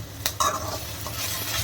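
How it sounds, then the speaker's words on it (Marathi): Chicken frying with a masala paste for chicken sukka, sizzling steadily in a pan while being stirred, with a couple of sharp scraping clinks near the start. "त्याला व्यवस्थित फ्राय करून घेऊया आपण."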